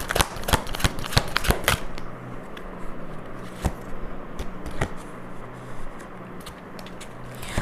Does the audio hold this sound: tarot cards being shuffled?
yes